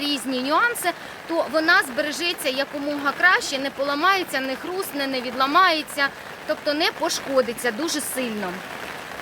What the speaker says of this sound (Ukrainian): я вибачаюсь за шум, це у нас дощ іде.